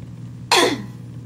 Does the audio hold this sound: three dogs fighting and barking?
no